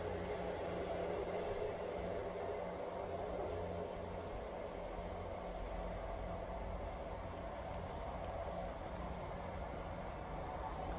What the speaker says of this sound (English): And as that train leaves,